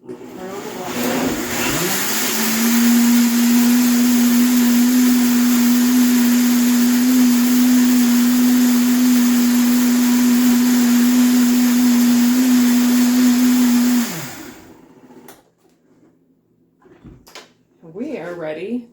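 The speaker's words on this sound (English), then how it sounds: "Okay, then turn on the blender." Countertop blender whirring steadily for about twelve seconds while blending whole wheat pancake batter, loud and close, with a constant motor whine, then stopping abruptly; a few faint handling noises follow.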